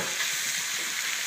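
Rabbit meat browning in a pan gives off a steady, close sizzle with a bright hiss that holds even through the short stretch, with no voices over it.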